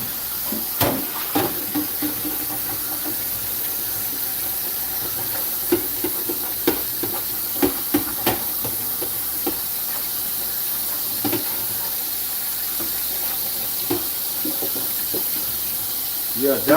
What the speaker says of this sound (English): I gotta do my dishes